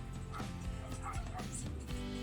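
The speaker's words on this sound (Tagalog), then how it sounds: "Walang tigil ang mga aso." Several dogs in the Philippines bark and yip repeatedly at night in a busy, continuous chorus, some whimpering, with a faint voice underneath.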